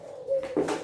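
A Thai dove gives a short, soft coo, close by and alone, with a low breathy hum rising briefly into a second note.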